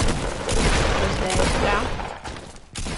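A grenade launcher fires in a chaotic video game firefight, and dense, loud booming blasts merge with rapid gunfire across a few seconds of continuous noise.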